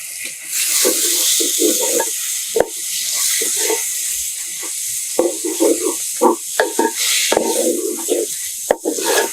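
Tomato pieces tossed into a pan for mushroom curry fry with a steady, bright sizzle, broken by the scrape and clatter of stirring at a close distance.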